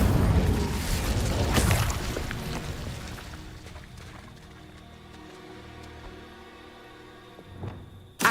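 An Incendio fire spell bursts in Hogwarts Legacy on PS5, a loud whooshing blast that swells early and then trails off into a long fading rumble, with a short sharp pop near the end.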